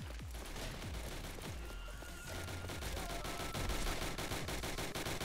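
Rifle and scattered gunfire on a Roblox WW1 battlefield in Entrenched, a dense run of sharp shots cracking at varied distances over steady battle noise, the volume rising toward the end.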